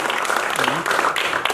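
Audience members at a stage performance of And Then There Were None applaud the actors with brisk, dense clapping, a short burst with a voice briefly heard underneath.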